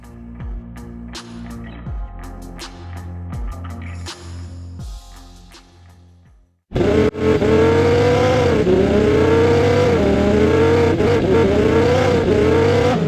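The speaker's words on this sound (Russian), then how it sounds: "так я получил основные слои в виде звуков мотора, гравия и скольжения шин" Sound-design layers of car engine, gravel and tire skid: sharp bursts of engine revving come first, then a loud, continuous engine roar with rising and falling pitch and gritty skidding noise.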